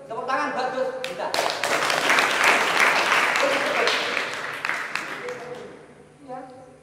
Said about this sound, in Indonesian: Tepuk tangan buat Gus.